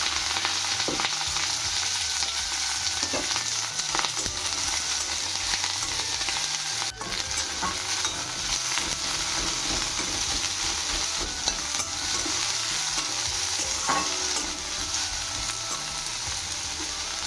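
Onions and green chillies fry in hot oil in a wok with a dense, continuous crackling sizzle. Occasional scraping stirs sound close by, and no one talks.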